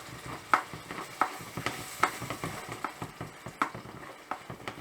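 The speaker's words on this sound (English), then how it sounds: "Now tomato will fry. It becomes dark now." Tomato fries in a pan for chicken Madras, with a soft sizzle under repeated sharp scraping and stirring knocks at an uneven rhythm, close and without speech.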